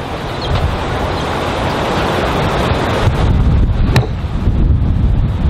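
Steady wind buffets the microphone on an open golf course, a constant low rumbling roar with gusts swelling louder toward the end and no voices.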